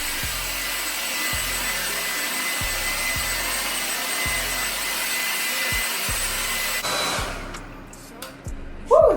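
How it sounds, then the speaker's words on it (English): Hair dryer blowing steadily on freshly washed hair, a loud continuous rushing whoosh with a rhythmic low thudding, cutting off near the end into quieter handling noise. "Now we're about to blow dry"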